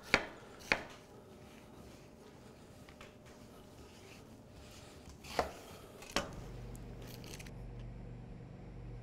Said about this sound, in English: when you cut across, you end up with perfect little dice.